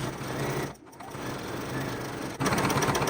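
A sewing machine stitches forward while making a thread catcher, a close, steady rapid mechanical whir that dips briefly near the start and then resumes slightly louder toward the end.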